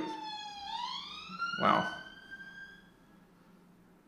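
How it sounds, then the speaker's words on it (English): An emergency vehicle's siren passes nearby, one long wail rising in pitch and then holding steady as it fades. A person briefly exclaims over it. "there was just a siren going past"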